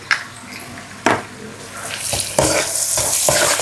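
Shrimp sambal with dried rebon shrimp is stirred and fried in a wok, a steady close sizzle broken by a few sharp scraping stirs, with no voice over it.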